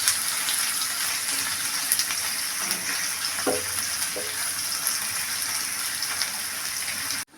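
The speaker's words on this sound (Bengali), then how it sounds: "আমি পেঁয়াজগুলো সুন্দর করে বাদামি কালার করে ভেজে নেব।" Onions frying in oil in a pan, browning for chicken biryani, with a soft continuous sizzle throughout and a few brief stirring scrapes near the middle before it cuts off.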